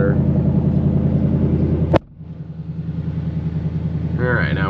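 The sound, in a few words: stock factory car engine in sport mode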